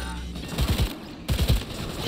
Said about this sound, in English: Oh my gosh, everybody's shooting me.